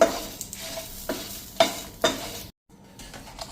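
Chillies, coriander and garlic roasting in a pan over a slow-to-medium flame, with a soft steady sizzle broken by about five sharp scrapes of stirring, a brief silent gap, then faint sizzling again.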